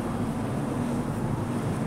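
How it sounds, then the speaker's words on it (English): Outdoor wind blowing past a fruit tree, a continuous loud roar and rumble buffeting the microphone with no break. "Wind is blowing."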